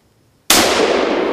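A single loud, sharp rifle shot fired while hunting moose in Alberta cracks out of near silence and leaves a long rolling echo.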